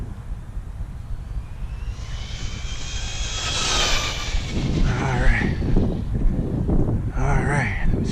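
A Team Associated DR10 RC car runs at full throttle with a rising high-pitched motor whine and rushing wind noise, growing louder and closer toward the end.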